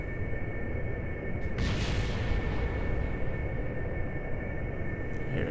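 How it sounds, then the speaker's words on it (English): A cannon shot booms in Kerbal Space Program, a single heavy blast followed by a rumbling decay over a steady engine drone, with a faint second pop near the end. "Let's show him how these cannons work"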